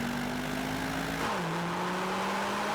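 Mercedes-AMG C63, E63 and A45 cars accelerate side by side in a drag race, a loud steady engine drone whose pitch climbs, dips at a gear change, then rises again.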